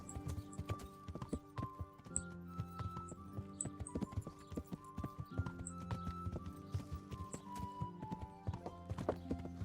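Horse hooves in the video game Kingdom Come: Deliverance, a quick rhythmic clip-clop of galloping that continues throughout at moderate level, with faint game ambience underneath.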